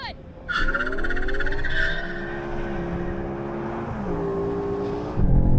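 BMW M5 cars launch hard from a standstill with launch control in a drag race, all-wheel drive against rear-wheel drive, engines rising through rapid gear changes with tire squeal, loud and close, with a brief voice near the start.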